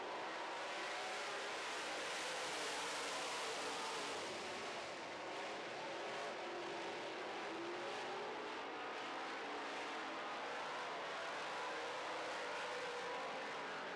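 Late model race cars roar at a dirt-track heat race start, a dense, sustained engine drone holding steady and loud for the whole stretch with no pauses.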